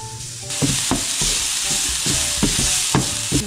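Garlic fried rice frying and being stirred in a hot pan, a constant loud sizzle broken by repeated rhythmic scraping strokes of a spatula, close up with no voices.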